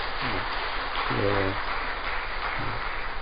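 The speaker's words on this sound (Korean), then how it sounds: "여러분 한번 힘차게 박수 한번 해주시고요." Congregation applauding during a Sunday church service, a steady wash of clapping with a voice speaking over it in short bursts.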